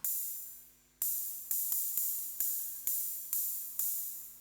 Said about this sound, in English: I do have a short cymbal which sounds like this